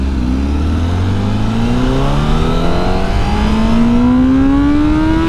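A Honda CBR1000RR-R Fireblade SP motorcycle engine climbs steadily in pitch as it revs toward 7,000 RPM on a highway, loud and close, with wind rushing underneath.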